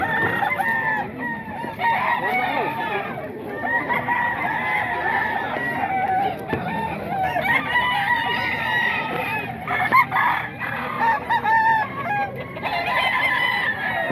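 Many chickens and roosters at a Bocaue flea-market poultry stall crow and cluck over one another without a break, a dense, busy chorus with repeated overlapping crows from both near and far birds.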